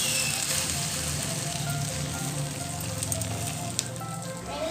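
An egg pizza sandwich with cheese cooks covered in a pan, giving a steady, even sizzle that stays loud throughout with no talk.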